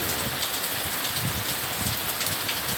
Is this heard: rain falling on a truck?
yes